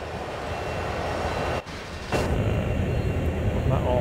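A CSX heavy haul freight train in Train Sim World rumbles with a steady broadband roar, briefly drops out, then returns louder with a rougher, grinding texture, while someone talks over it.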